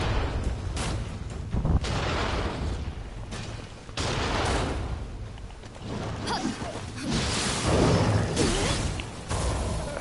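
Cannon fire in a ninja yokai video game, a series of heavy booms and blasts with whooshes in between, loud and rumbling over a dense, chaotic background.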